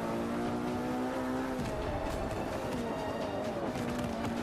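A racing car engine in Forza 5 pulls hard under throttle, its tone climbing, dropping at a gear change, then rising again in a continuous loud drone.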